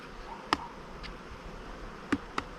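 Honey bees hum around hive frames during a final honey extraction at a Ukrainian apiary, a faint steady buzz broken by a few short, sharp clicks.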